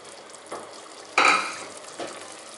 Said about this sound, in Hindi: अब इसको मैं अच्छी तरह से भून लूँगी।